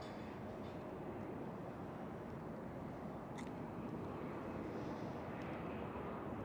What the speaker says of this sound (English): And the KLM 737-800 just touched down.